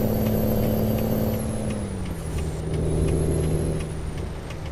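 A heavy truck braking hard on a rainy night in American Truck Simulator: the steady engine drone drops in pitch, with a hissing air brake and tonal whine throughout, no talking.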